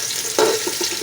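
Finely chopped onions go into hot oil for aloo tahari, with a sudden burst of sizzling as they hit the pan, then a steady crackling fry with light stirring.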